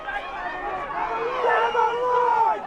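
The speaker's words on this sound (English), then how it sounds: "Crowd screaming for a penalty." Rugby crowd at the Castlereagh Cup Grand Final between Dunedoo Swans and Gilgandra Panthers, a sustained wall of shouting and screaming that swells toward the middle and end, with a commentator talking over it.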